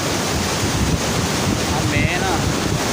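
Fast-flowing water rushes through a canal, a loud, steady broadband wash with wind buffeting the microphone and no breaks.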